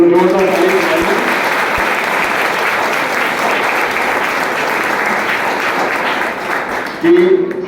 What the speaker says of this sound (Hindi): तो एक बार हमारे कैप्टन के लिए, प्रिंसिपल मैम के लिए आप लोग जोरदार ताली बजाइए।